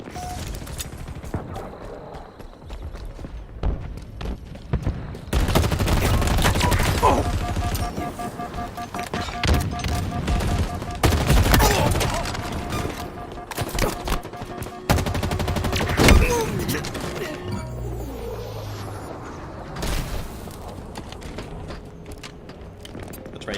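Gunfire in the video game Mass Effect Andromeda, with sharp sniper rifle shots and bursts of other weapons over game ambience and mechanical sounds, firing in loud clusters across the scene.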